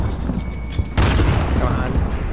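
A grenade explosion in the Modern Warfare video game, heard as one sudden loud blast about a second in, followed by a sustained rumbling wash of gameplay noise.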